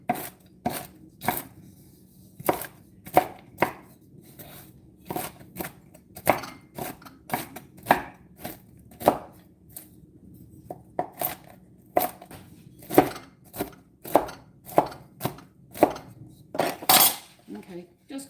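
Coarse chopping of ingredients for cranberry walnut cookies: a steady run of sharp knife strikes on a cutting board, close and distinct, with irregular rhythm and no talking.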